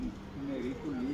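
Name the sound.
pigeon landing and cooing on rooftop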